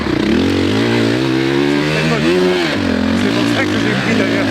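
A 450 dirt bike rides through sand, its loud, close engine droning steadily with wavering pitch as the rider works the throttle, while someone talks over it.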